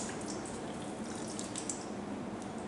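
Water draining and dripping from freshly rinsed boiled jackfruit in a kitchen, a steady close-up trickle and patter with no voices.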